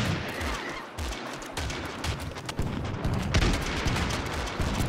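Ottoman artillery in Totally Accurate Battle Simulator fires explosive shells, giving a chaotic fusillade of booms and rattling gunfire in irregular bursts, fairly quiet overall, with a heavier blast near the end.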